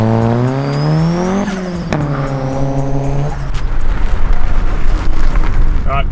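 A turbocharged 1.5 litre car with its boost turned up accelerates hard, its engine note climbing loud and close through the gears, then giving way to a rushing, noisy roar.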